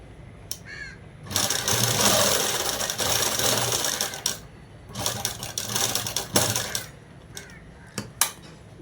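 Sewing machine running in bursts while stitching cut work pants, with a long continuous run, then shorter stop-start passes and sharp clicks between, fairly close and without talk.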